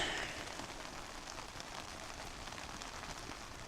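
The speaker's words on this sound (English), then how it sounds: "But yeah, no, it's raining again." Soft, steady patter of rain falling at a campsite in the woods, a constant faint hiss with scattered drops throughout.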